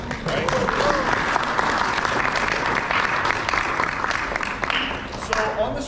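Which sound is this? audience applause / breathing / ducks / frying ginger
audience applause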